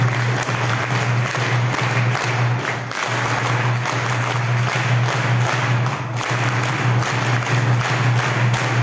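Audience applause at a devotional discourse on the Eknathi Bhagavat, a steady broadband wash of clapping running through the whole stretch at an even, fairly loud level, with a low hum underneath.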